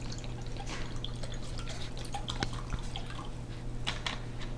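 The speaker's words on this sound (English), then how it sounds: "open a bottle of vinegar, fill it up in a ceramic bowl" Vinegar poured from a bottle into a ceramic bowl, a soft, continuous liquid trickle with small splashes and drips, close and fairly quiet over steady background hum.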